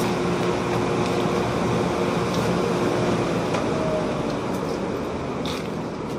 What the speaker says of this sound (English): So now you can definitely hear the air come up.